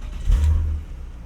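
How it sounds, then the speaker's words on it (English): A BMW E30 with a swapped S52 straight-six accelerates on the road, a short deep engine surge that swells and then eases off within about a second. "let's go ahead and take this E30 on the road and see how it rips"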